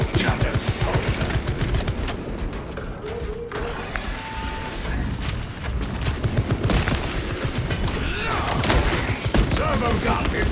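Rapid, continuous gunfire from a Techmarine's turbo gun on a Warhammer 40k battlefield, loud and dense throughout, with crashes, booms and voices mixed into the chaotic fight.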